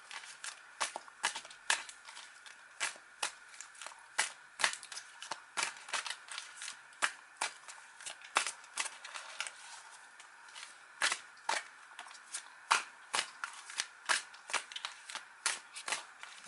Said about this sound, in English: these cards are not as easy to shuffle as my other decks